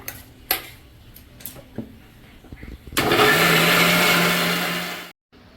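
A few clinks and taps of kitchenware come first, then a blender grinding soaked dates into paste kicks in with a loud, steady whirring roar for about two seconds before cutting off abruptly.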